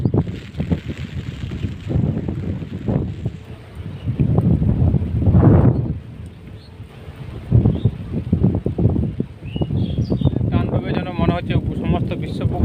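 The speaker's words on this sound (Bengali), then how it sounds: "মানে জোড়ো বাতাস বলে।" Strong gusting wind from Cyclone Remal on a coast with rough waves, loud and buffeting the microphone in irregular surges and roaring bursts throughout, with no clear talk.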